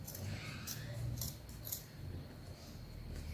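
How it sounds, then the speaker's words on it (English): Scissors snip through excess asooke fabric on a zara cap with a bow, giving a few quiet, crisp cuts in close, soft sequence over a low background hum. "I'm going to be trimming off all this excess fabric so I can give it a neat finishing"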